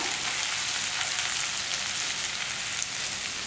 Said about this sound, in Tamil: இதெல்லாமே நல்லா வதக்கிக்கிட்டு இருக்கோம்